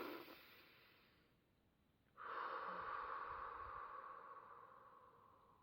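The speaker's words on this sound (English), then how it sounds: "have a deep breath." A single slow, deep breath taken during an EFT tapping exercise: a soft intake, a short pause, then a long, steady, fairly close exhale.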